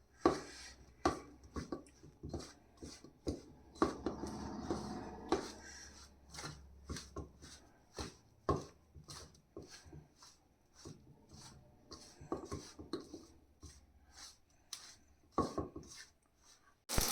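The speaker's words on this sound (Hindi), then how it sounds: "अच्छी तरह से मैश कर लेते हैं।" Flour being mashed and rubbed by hand with hot desi ghee for Makar Sankranti laddoos, a steady run of dry rasping, scraping strokes in close quiet, with no talk.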